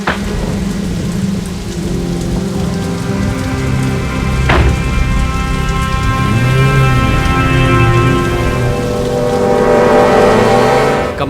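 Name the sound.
heavy Mumbai rain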